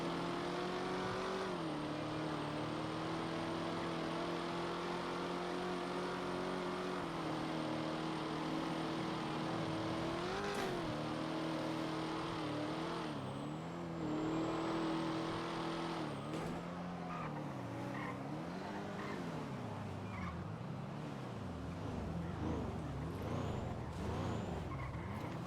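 Cars drive in the GTA NoPixel game with a steady engine drone, rising and falling revs and tonal sweeps, with busier traffic and skidding noise toward the end.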